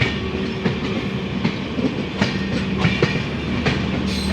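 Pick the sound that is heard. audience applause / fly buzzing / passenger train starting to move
passenger train starting to move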